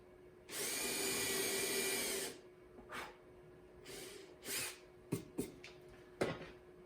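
A power drill bores a hole through a seat in one steady whine lasting about two seconds, followed by brief clunks, short handling knocks and scrapes.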